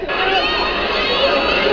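Dense crowd of fans screaming and cheering loudly and continuously, high-pitched shrieks throughout, at a crowded CNBLUE open press conference at SM Megamall in Manila, with people pushing and jostling.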